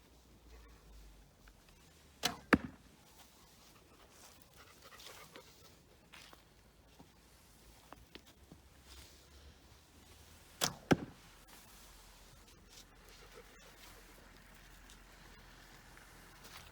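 Arrow loosed from a simple ipé wood beginner's bow at a boar target outdoors: two sharp, distinct impacts, one early and one later, each standing clear above quiet ambient background, with no talk.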